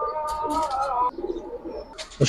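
A high-flying Giribaz or coloured pigeon coos in a sustained throaty call up close, followed by quieter fluttery rustling and a soft knock at the end.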